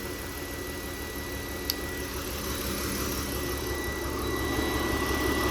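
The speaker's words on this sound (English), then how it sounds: "now it's a bit calmed down. It's idling." A BMW E46 engine idles steadily after fuel injector installation, with a low continuous rumble and a faint high whine, rising slightly in loudness near the end.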